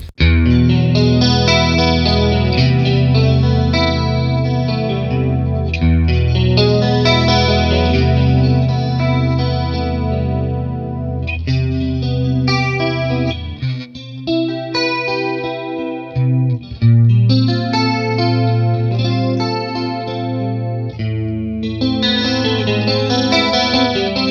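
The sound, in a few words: guitar chorus effect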